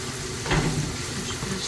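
Chopped onion frying in a pan for a Chinese-style vegetarian dish, giving a soft, steady sizzle throughout with a brief louder burst of stirring early on.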